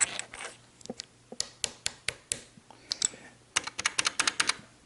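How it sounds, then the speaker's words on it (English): Crisp key clicks from a mechanical keyboard, close and distinct, come in uneven bursts, slow at first and then faster and denser toward the end. "So the switch sound and the keycap sound together, they become your keyboard sound."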